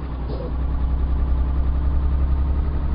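Car engine in a driving video game, a loud steady mid-to-low drone that holds constant throughout, with a faint voice briefly near the start.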